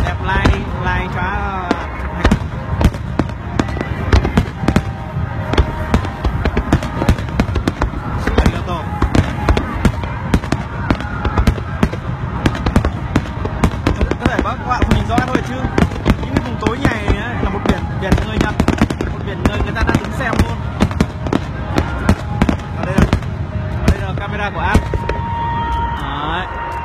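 Loud fireworks at a Japanese summer festival, dense continuous booms and crackles layered over music, with crowd noise throughout nearly half a minute.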